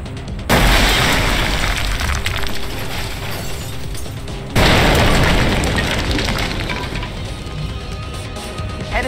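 Artillery strikes land during a mission in the video game XCOM: Enemy Within: two heavy, close blasts a few seconds apart, each trailing into a long, rumbling roar, with no talking.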